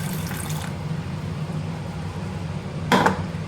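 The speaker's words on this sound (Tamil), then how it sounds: "நம்ம கடலை வேகிறதுக்கு தண்ணி சேர்த்துக்குவோம்." Water poured into a pot of soaked white chickpeas for cooking, heard as a steady close pouring and trickling wash, with a brief clatter of a utensil near the end.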